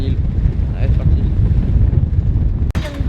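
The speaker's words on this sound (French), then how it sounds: "là il y a beaucoup de vent" Strong wind buffets the microphone on a ferry deck heading to an island in Canada, a loud continuous low roar with gusts, and a brief sharp knock near the end.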